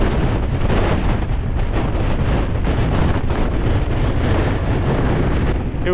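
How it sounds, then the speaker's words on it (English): Strong mountain wind roars steadily through a gully, a loud, continuous gusting rush buffeting the microphone with no letup. "Look at how fast the wind's moving through it."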